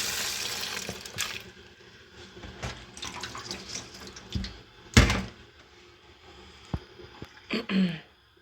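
Water runs steadily from a tap over chickpeas being rinsed, with occasional clunks and knocks of something being handled in a sink.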